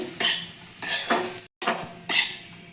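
Spices with garam masala powder and salt being stirred and fried in a pan, several scraping strokes of a utensil against the metal in uneven bursts, close by, with faint sizzling and no talking.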